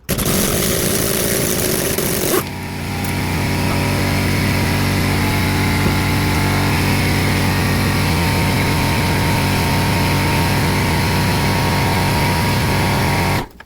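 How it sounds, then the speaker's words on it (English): An air compressor runs loud and steady in a garage during front strut replacement on a 2004 Honda Accord LX, a continuous motor drone that starts abruptly after a short burst of broadband noise and holds unbroken for the rest. "sorry for the air compressor, but I'm not doing it without the air compressor"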